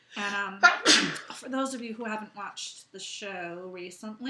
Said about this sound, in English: don't know what's causing me to sneeze.